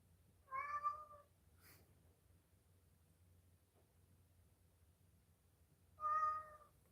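A house cat lets out two clear meows several seconds apart, close and distinct against a quiet room with a low background hum.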